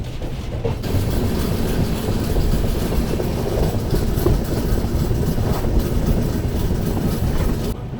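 The 12342 Agnibina Express, running from Asansol to Kolkata, makes a loud, continuous rumble with rhythmic wheel-on-rail clatter that holds steady throughout and no talk.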